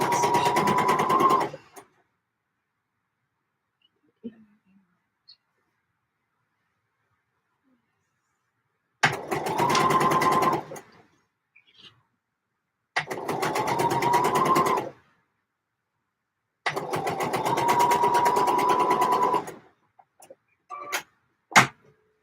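A sewing machine stitches a dress in four separate runs of fast, even mechanical whirring, each a few seconds long, with quiet pauses between and a few faint clicks near the end.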